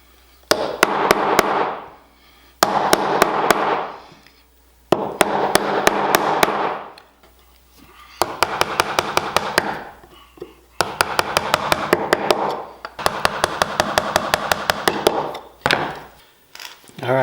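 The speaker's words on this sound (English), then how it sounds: "hammering on it much harder and much more aggressive" A wooden mallet strikes a chisel while cutting a hand-made wooden bowtie inlay, sharp rapid blows in bursts of about ten, close and loud, with short pauses between the bursts.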